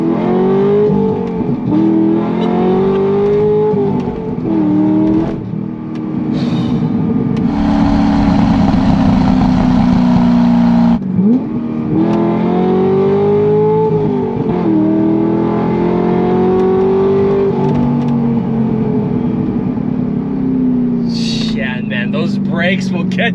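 A Chevrolet Corvette C6 Grand Sport with an LS3 V8 revs and pulls through gears, engine note climbing and dropping repeatedly, loud and steady from inside the car.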